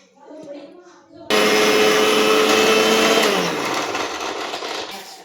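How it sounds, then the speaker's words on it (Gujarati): A mixer grinder grinding ginger, garlic, coriander and two green chillies, starting abruptly after a moment of quiet talk, then a loud steady whirring motor roar whose pitch drops partway through as the blend loosens. "આમાં આપણે આદુ, લસણ ને કોથમરી ને 2 મરચી નાખી છે, એને મિક્સરમાં પીસી લેવાનું છે"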